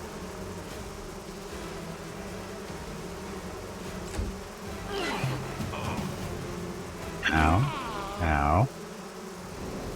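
A swarm of biting bugs in Pathfinder: Wrath of the Righteous buzzes steadily through a battle, with game hits and a few voiced grunts and cries rising over the drone near the end.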